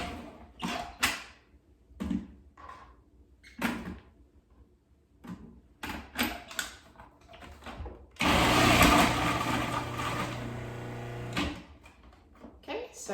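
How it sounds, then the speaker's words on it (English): A food processor whirs loudly as sliced apple is fed in and shredded, running in one sustained burst after several clunks and knocks, with a person talking before and after. "So I'm going to feed sliced apple into the food processor"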